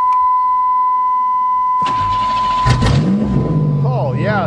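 A 1990 Buick Century engine cranks and starts after about two seconds of a steady warning chime, then revs up and settles into a rough idle, loud and close, with a voice speaking over it.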